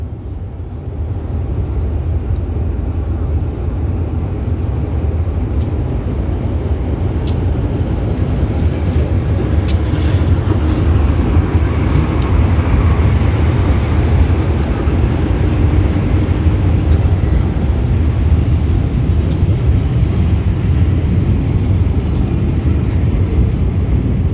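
A freight train loaded with salt passing through Sung Noen railway station in Thailand, a loud steady rumble of rolling wagons close by with rattles and squeals, no talk.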